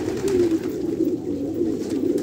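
Quetta pigeons in a loft in Pakistan, fighters and young birds together, coo steadily at close range, with low, continuous overlapping throaty calls and no talking.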